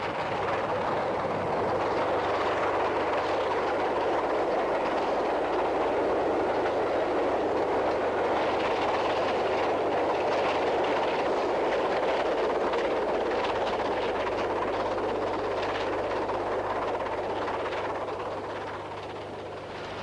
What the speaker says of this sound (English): Tamar Valley forges up the bank out of Christchurch towards Hinton Admiral with an express for Waterloo.